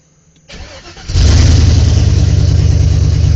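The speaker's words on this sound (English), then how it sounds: "Morning, and we driving the truck today. Cold start in Georgia." A V8 truck engine cold-starts on a morning in Georgia: faint cranking, then it catches and roars up loudly, settling into a steady, rumbling high idle close by with no talk.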